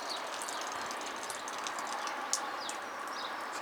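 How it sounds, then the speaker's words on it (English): Distant motorway traffic about a mile and a half away, a steady broadband hum heard from a garden, with birds chirping faintly over the top. "The noise you can hear is the motorway,"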